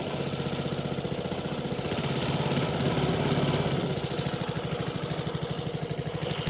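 A trailer boat engine turning the drivetrain at low throttle, a steady close mechanical putter with a rapid regular pulsing rhythm that swells slightly in the middle and then settles, with no talking.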